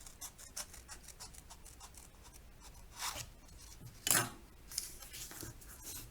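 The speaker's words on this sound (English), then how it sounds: "Now we'll take our scissors. We're going to cut right along that line." Scissors snip through paper while a pop-up card is made, giving faint, close, irregular crisp cuts and rustles with a couple of slightly louder snips.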